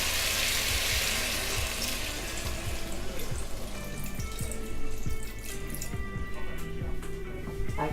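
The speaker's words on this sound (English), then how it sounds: "And we are going to add a little bit of water." Water poured into a hot pan of cooking shredded chicken, a loud steady rush and sizzle at first that settles into bubbling and crackling frying, with no talk.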